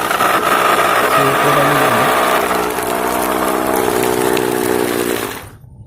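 An automatic vegetable chopper whirs loudly and steadily as it chops carrots, its motor droning with a rough, gritty texture for about five seconds before switching off abruptly.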